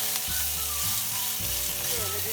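Loud, steady sizzling of onion and garlic frying in olive oil in a pot, close up, with occasional stirring clatter.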